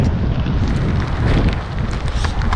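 Strong wind buffets the microphone while cycling across France, a loud continuous rumbling roar with gusty fluctuations throughout.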